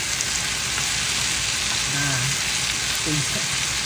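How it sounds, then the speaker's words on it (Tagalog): Bitter melon (ampalaya) stir-fries in a pan, giving a steady, even sizzle that fills the whole stretch, with a few faint knocks from stirring and no talk. "Gisadong ampalaya. Bitter melon. Stir fried."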